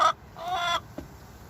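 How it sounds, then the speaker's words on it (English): Chickens cluck in short bursts, with a louder cluck at the start and a sustained run in the middle at a farm where a rooster is present. A single faint cluck follows, and no one speaks. "Well, hopefully this rooster is a nice and friendly rooster."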